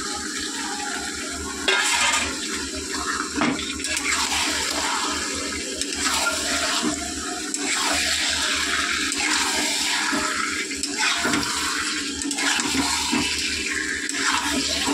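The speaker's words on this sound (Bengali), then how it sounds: "নুন হলুদ আর লেবু মাখানো চিকেনটা আমি দিয়ে দিলাম।" Chicken coated in salt, turmeric and lemon sizzles loudly in a pan of fried spices, a continuous hissing crackle with occasional surges and pops, close and alone.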